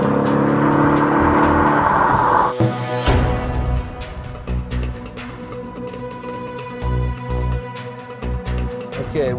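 A Mercedes-AMG car launches hard off the line, its engine roaring loud and close before the pitch drops through a gear change into a rougher, pulsing drone with clicking transients.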